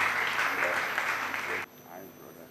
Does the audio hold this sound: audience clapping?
yes